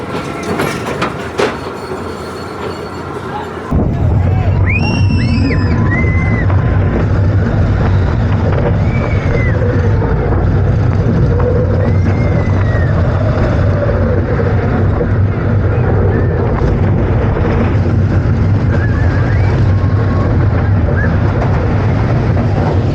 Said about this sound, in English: ride number 2 here is gonna be Patriot, which is another Hopkins Company roller coaster, also built in 1992